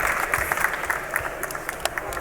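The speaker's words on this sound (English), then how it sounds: "I think we should clap." A small audience at an Innovation Stage conference session gives light, scattered applause, fairly faint and steady for a couple of seconds.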